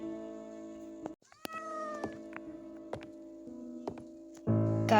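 Several short cartoonish meows from a pet cat in the video game Cat Fred Evil Pet, with a few soft taps and clicks between them and a brief louder burst of game sound at the end.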